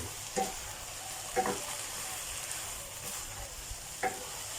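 Mushrooms and onion with shrimp paste are stir-fried in a pan under a soft, steady sizzle, with a few brief knocks of the spatula spaced a second or more apart.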